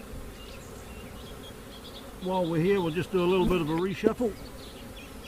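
Honey bees hum steadily around frames lifted from a hive while a nucleus colony is split off, a soft continuous drone running throughout with someone talking over it in the second half.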